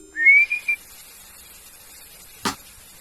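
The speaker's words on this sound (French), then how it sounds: "Pourquoi elles réagissent autant au sifflement là?" A short rising whistle near the start, then a sudden sharp burst a couple of seconds later, otherwise near silence.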